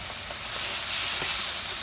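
Red chili powder and coriander powder fry in a pan while a potato dish is stirred in a village home kitchen, making a continuous bright hissing sizzle that swells slightly midway.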